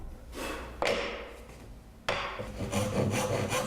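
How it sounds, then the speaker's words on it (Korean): A hand saw rasps back and forth through wood in quick strokes, close by, cutting a traditional Korean joinery joint against a backing board, with a short break before the sawing resumes more loudly. "톱질을 수월하게 하기 위해 다른 자재를 대고 톱질합니다"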